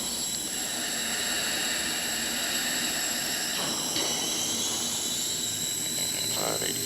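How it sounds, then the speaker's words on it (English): Military jet engine starting up, number one engine cranking, a loud steady turbine whine and roar with rising high tones, heard close. "cranking number 1, start, throttle up, fuel flow"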